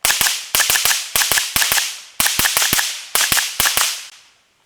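Suppressed B&T MP7 firing a string of sharp, close cracks in quick pairs and triples across several seconds, each shot loud and snappy, ending in a fading tail.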